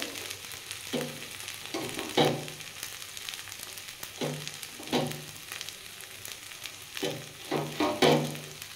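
Mashed moringa leaves with toasted, crushed chilli are stirred in a pan, giving a soft background sizzle broken by repeated scraping strokes of a spatula, fairly quiet and close, with no talking.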